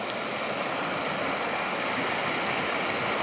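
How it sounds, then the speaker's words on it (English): The Hoh River streams past steadily, a broad, continuous rush of water that stays loud and even throughout with no voices. "Got a nice spot right by this river."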